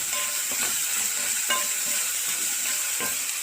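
Minced meat seasoned with black pepper and salt is stirred in a hot pan for a moussaka tray bake, giving a steady close sizzle of frying with light scraping stir strokes recurring throughout.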